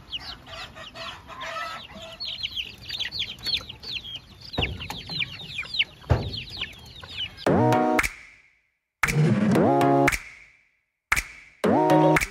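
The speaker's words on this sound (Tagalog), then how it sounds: "ipapakita ko po sa inyo yung mga alaga nating bagong mga bisa na sisiw" Newly hatched heritage and native chicken chicks on a farm, about forty of them, peep in a dense, continuous high chorus. Louder clucking from adult chickens breaks in near the end.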